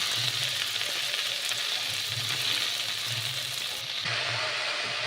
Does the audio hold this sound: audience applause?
no